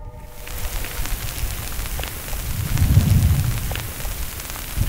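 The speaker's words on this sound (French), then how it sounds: "Il pleut, incroyable, c'est fou, c'est fou." Rain falls in the Moroccan desert of Figig province, a steady hiss of drops on surfaces, close and even, swelling briefly with a low rumble midway.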